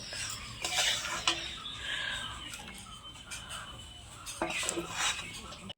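Raw mango pulp is spread onto a metal plate with repeated scraping and clinking of a utensil, close and moderately loud, while a person talks over it.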